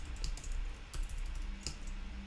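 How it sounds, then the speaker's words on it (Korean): Keys clack on a computer keyboard as a Command N shortcut is pressed while a Swift file is created in Xcode; a few soft taps sit over a steady low hum, with no talking. "커맨드 N 눌러서 새로 만들어 줍니다"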